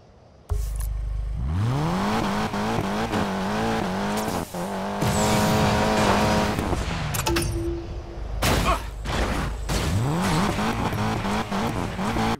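A car in Need for Speed Payback revs hard through rising and falling engine notes as it races at speed and leaps off an edge, with tire squeals and skids mixed into the loud, continuous game audio.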